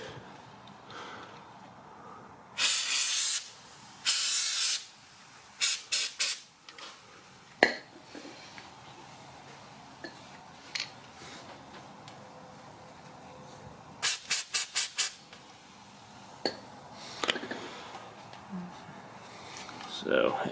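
BG penetrating oil is sprayed in short bursts onto car front suspension parts, caliper bracket and strut bolts, giving sharp hissing spurts in several separate groups, some single and some rapid runs, between quiet pauses.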